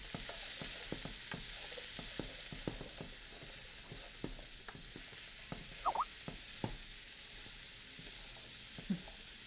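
Garlic sizzles in a pan for shrimp fra diavolo, a steady frying hiss with scattered small pops and crackles and a few clinks of stirring, close and moderately quiet.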